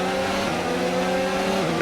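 Steady, loud race car engine drone from an F1 racing video game, a sustained high whine with stacked harmonics holding nearly constant pitch, with a slight rise near the end.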